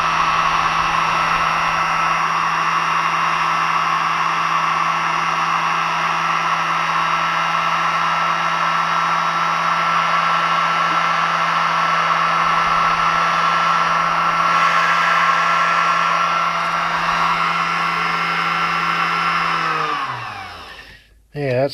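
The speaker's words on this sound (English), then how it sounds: "that's a pretty powerful motor" A powerful electric motor runs at a steady, loud whine with a constant hum for about twenty seconds, then spins down and stops abruptly.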